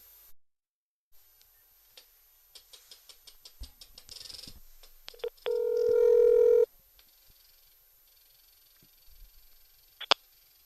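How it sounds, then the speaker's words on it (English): An outgoing phone call to a North Carolina senator's Washington office connects: a rapid run of dialing clicks and tones, then one steady ringback tone, clear and alone in a quiet room. "Let me get this phone call going here."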